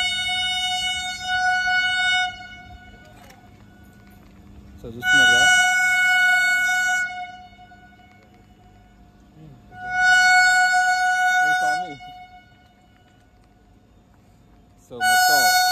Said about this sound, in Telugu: సో మొత్తం హారన్ అయితే ఇస్తుంది మన వేరే ట్రైను.